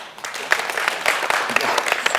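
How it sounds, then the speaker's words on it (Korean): Applause from a seminar audience at an IBM storage technology event, a steady patter of many hands clapping for a couple of seconds with no talk over it. "이거 하나 더 남았는데 박수 한번 더 칠까요?"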